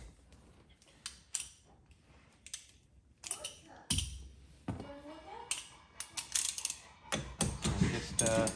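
A ratchet wrench clicks in short bursts while turning a bolt on a Volkswagen Eos during a cruise control retrofit, close ratcheting pawl sounds mixed with clunks and handling noises.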